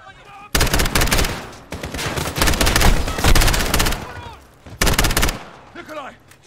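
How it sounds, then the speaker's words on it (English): Dense automatic gunfire in the video game Call of Duty: Modern Warfare, loud sustained bursts with brief pauses between them and shouted voices faintly underneath. "Stop shooting the people!"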